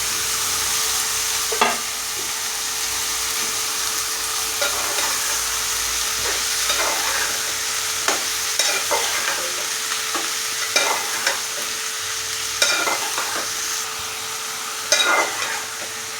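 A curry of green beans being stirred in a pan, steady frying hiss broken by repeated scraping, clattering spoon strokes at irregular intervals, close by and with no talking.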